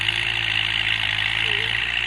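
A stock, unmodified farm tractor idles steadily with a continuous low engine drone, a broad hiss sitting above it, holding an even level from start to finish.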